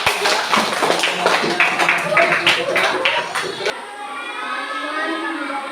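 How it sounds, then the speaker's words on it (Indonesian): A classroom of students claps for a presenting group, a few seconds of scattered, uneven hand claps mixed with talk that end abruptly, leaving a quieter room hum. "Kita beri tepuk tangan untuk kelompok 3."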